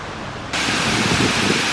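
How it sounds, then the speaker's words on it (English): The waterfall at Yates Mill roars as a steady, broad rush of falling water that swells louder partway through and holds evenly, with no voices. "we're stopping to enjoy the sound of the waterfall"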